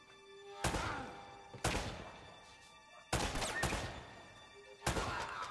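Gunfire in the video game Uncharted: Drake's Fortune, four sharp loud shots or short bursts spaced unevenly over a few seconds, each trailing off with an echoing tail over quiet game ambience.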